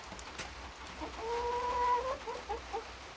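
Chickens sheltering under cages from autumn rain cluck softly nearby, a drawn-out tonal call and a few short clucks over a steady hiss of rain.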